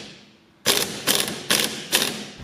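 A ratchet tightens a nut onto the upper control arm bolt of a Nissan NP300 during a lift kit install, four close, loud ratcheting bursts in a steady rhythm with no speech.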